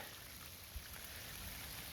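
Wet-weather waterfall running full after heavy rain, pouring over its first ledge: a steady, quiet broadband rush of falling water, continuous and even throughout with no voices.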